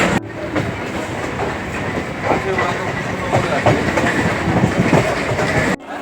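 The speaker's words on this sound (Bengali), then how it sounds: "এই যে লোকাল আসছে এই লোকালে আজকে যাবো শিয়ালদা" A Budge Budge–Sealdah local commuter train pulls into Jaynagar Majilpur station, its wheels clattering in a steady rhythmic clickety-clack with a loud rumble close by for several seconds.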